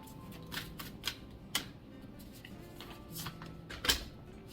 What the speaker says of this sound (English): I'm gonna pull a card from the Isis Oracle deck